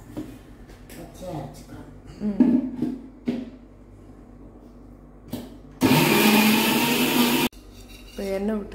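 A loud burst of a mixer grinder whirring for about two seconds while making tomato rice, set between stretches of talking and small kitchen clatter.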